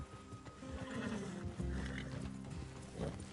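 Horses in the Red Dead video game clip-clop along while neighing and whinnying, with hoofbeats and several snorting, whinnying calls heard at close range.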